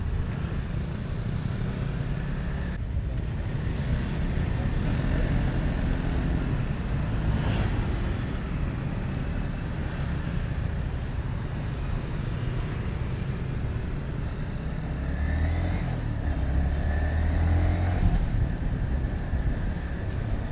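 A Yamaha XSR155 motorcycle ridden along an uneven road in Bali, a steady engine drone with heavy wind rush across the microphone, continuous and fairly loud with no talking.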